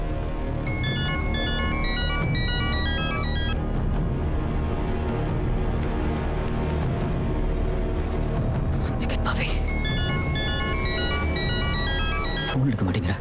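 A phone rings with a repeating electronic ringtone pattern that goes unanswered, heard in bursts over continuous background noise and music, with voices speaking.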